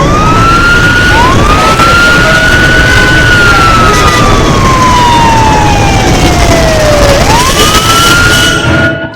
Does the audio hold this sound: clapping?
no